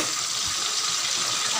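Breaded pork chop frying in a pan gives a steady, bright sizzle of hot oil, close and even throughout with no talk.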